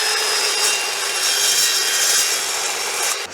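A saw blade grinds steadily through 1/8 inch thick, 3/4 inch wide steel square tubing, a continuous bright rasping roar close by that drops off at the very end, with no voices.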